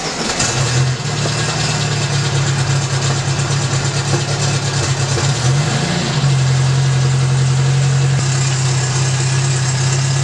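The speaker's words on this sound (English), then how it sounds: "So let's get a cold start real quick." A Volkswagen car engine idles steadily after a cold start, a loud, continuous low hum with a constant drone and a slight pitch shift midway, and no talking.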